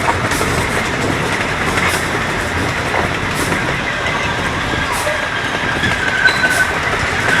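A Knoebels amusement park train rumbles steadily along its tracks with continuous rattling and faint clacking, plus a brief high squeal near the end.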